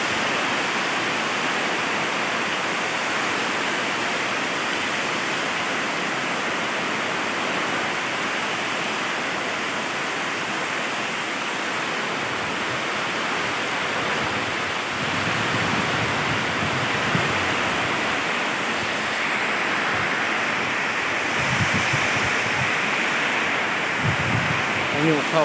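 The first rain of the year falls as a steady, dense hiss that stays even throughout, with faint low thumps and background activity underneath.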